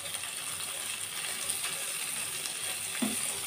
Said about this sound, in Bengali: কাঁচামরিচ আমি ভালোভাবে ভেজে নেব